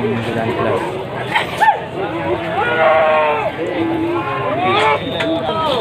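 Jawa Randu goats bleat at a livestock market in Panggul, Trenggalek, their wavering cries rising several times amid crowd noise and someone talking close by.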